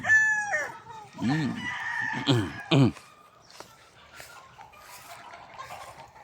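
A rooster crows loudly up close, followed by hens clucking and a second crow, then quieter scattered clucks and farmyard chatter.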